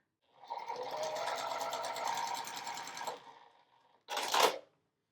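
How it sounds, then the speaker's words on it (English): A sewing machine stitches fabric corner to corner in a steady close whir for about three seconds, pauses, then gives one short final burst, with no voices. "And we're just going to sew corner to corner again."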